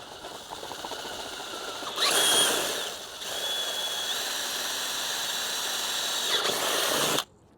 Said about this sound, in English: I'm taking a 1/4 inch drill bit and going from the inside where the threads are, because we gotta get rid of those threads